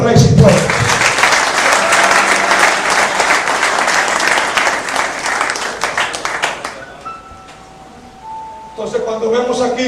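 A congregation at a church service breaks into loud, dense applause that lasts several seconds, then thins out and fades, after which a voice resumes speaking.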